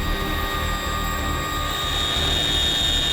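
A helicopter hovers a few feet above the water's surface during a maritime insertion, a loud, steady turbine whine and rotor roar with high-pitched tonal hum, no voices.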